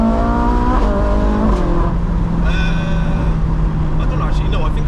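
A Ferrari 458 with a 4.4-litre V8 revs loudly and close, its pitch climbing and falling through several steady sweeps while people talk over it.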